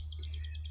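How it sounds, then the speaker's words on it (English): A red-winged blackbird sings from a tree on an Amish Country nature walk, a quick run of thin high chirps over a low steady hum, faint and a short distance off. "There's a red-winged blackbird."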